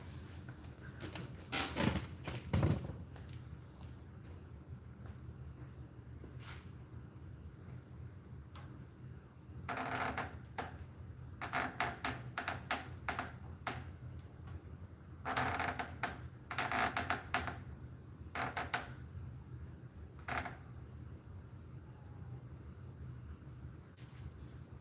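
Crickets chirp steadily in the background while sharper clicks and rustles break in at irregular intervals.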